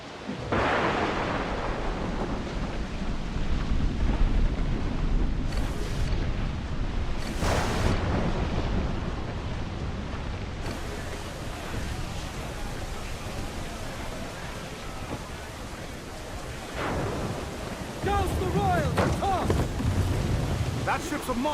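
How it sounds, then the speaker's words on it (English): Stormy sea in Assassin's Creed IV Black Flag, with a constant roar of wind and surf under loud thunder cracks and booms around the middle and late parts, plus bursts of crashing water. "Storm, Captain! Look back!"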